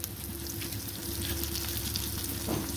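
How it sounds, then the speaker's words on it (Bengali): Onion fries in a pan with a little salt and turmeric for a fish bharta, sending up a steady, close sizzle with faint stirring underneath and no voices. "এবার এটাকে ভালো করে ভেজে নেব পেঁয়াজটাকে"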